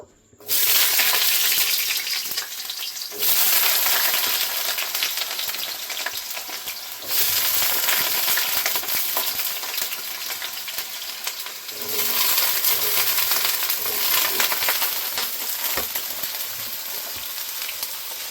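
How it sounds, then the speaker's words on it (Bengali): Cut potatoes fry in hot oil in a wok, a loud, close, continuous crackling sizzle with brief dips where pieces are added or stirred, then surging back. "কড়াইতে তেল দিয়ে দিয়েছি, আলুগুলো ভেজে নেব।"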